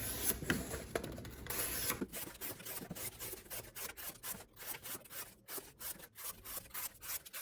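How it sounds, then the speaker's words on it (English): Single-wall cardboard being sliced with a factory-sharp Benchmade Tengu flipper knife, giving close, dry rasping strokes that start as a continuous scrape and then break into a steady rhythm of short repeated cuts. "Check the factory edge on the Tengu. Nice and sharp. A little cardboard cutting."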